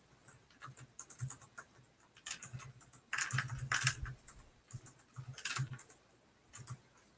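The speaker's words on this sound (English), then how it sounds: "I'll type it in." Fingers typing on a computer keyboard in irregular bursts of close, clattering keystrokes, with a few louder flurries and short pauses between.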